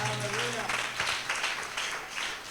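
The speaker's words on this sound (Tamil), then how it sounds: "கைத்தட்டி அவரை துதிக்கலாமா?" A church congregation claps their hands in praise during a worship service, a steady wash of applause alongside a voice at the start.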